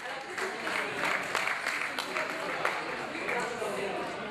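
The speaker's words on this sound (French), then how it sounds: "je voudrais qu'on applaudisse ces faucons parce que c'est eux qui travaillent" Open-air crowd applause at a falconry show with Harris's hawks at a festival in Les Pennes-Mirabeau, steady moderate clapping heard somewhat distant, with voices talking over it.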